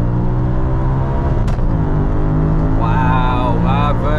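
Tuned Audi RS4 Avant engine drones loud and low from inside the car on a night drive, a steady rumble with a brief rise in revs partway through.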